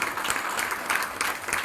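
Audience applause fills a trophy ceremony hall, a dense steady clapping from a crowd lasting throughout with no voices over it.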